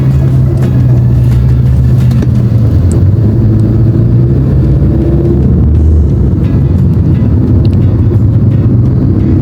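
Steady low engine rumble and road noise inside an Uber taxi car stopped and creeping in evening traffic in Qatar, a continuous loud drone with shifting low tones and no talking.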